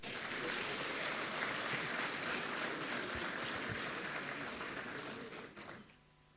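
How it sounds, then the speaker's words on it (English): A graduation ceremony audience applauds, dense sustained clapping from a large crowd that holds steady for several seconds before tapering off to quiet. "Can you please give yourself a round of applause?"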